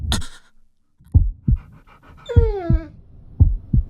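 An animated cartoon dog, a stray found in the street, pants in quick rhythmic huffs with short breathy bursts and a brief whimpering whine near the middle.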